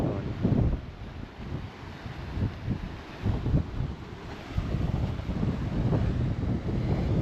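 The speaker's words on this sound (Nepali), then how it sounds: "यस्तो घुम्न आउने हावा कति आउँदैछ" Strong wind buffets the microphone on the rocky coast at Kiama Blowhole, a steady loud roar with gusty low rumbles and a wash of surf beneath, no voices.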